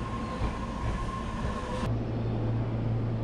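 A Tobu Urban Park Line train at a Kashiwa Station platform, a loud close rumble of wheels and motors with a steady tone that shifts abruptly into a lower hum as the train moves.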